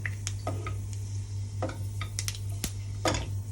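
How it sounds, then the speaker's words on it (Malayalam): Fenugreek seeds sizzle in a very hot pan, a soft frying hiss broken by scattered crisp pops and a few scraping stirs, heard close over a low steady hum. "ഈ പാത്രത്തിന് നല്ല ചൂടാണ് ഉലുവ ഇട്ടു ഉലുവ റെഡിയായി വരുന്നു"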